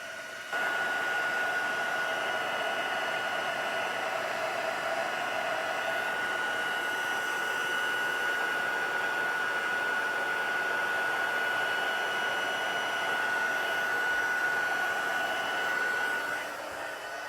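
Heat embossing tool blowing hot air across a card to melt embossing powder, a steady, loud whooshing roar that holds evenly for about sixteen seconds with a faint high whine, no talking.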